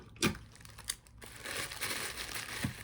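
Packing tape pulled and pressed onto a shipping package, with crinkly crackling bursts and a longer tearing rasp of tape unspooling, fairly quiet and close with no talk.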